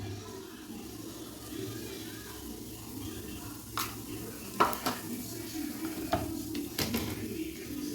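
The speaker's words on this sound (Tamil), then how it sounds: "கடாய் வச்சு எண்ணெய் ஊற்றிக்கிட்டேன் தாளிக்கிறதுக்கு பார்த்திங்கன்னா சீரகம்" Faint sizzling of cumin seeds in hot oil in a kadai, with a few sharp clinks and scrapes of a utensil against the pan rising over steady background noise.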